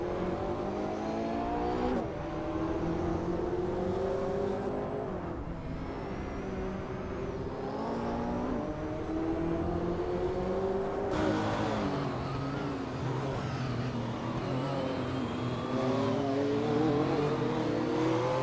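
Race cars in a racing video game, among them a 1996 Porsche 911 GT1, roar continuously with rising and falling engine notes as they accelerate and shift, several engines layered together at steady loud level throughout.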